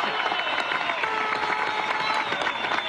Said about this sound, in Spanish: vamos a mandarle un aplauso a Nicolás Maduro desde aquí